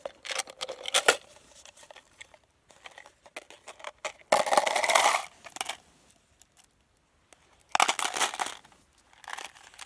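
A whole box of CCI Maxi Mag .22 cartridges is poured into a paper cup in three bursts of dense metallic rattling and clinking, close and loud. Short scattered clicks fall between the pours.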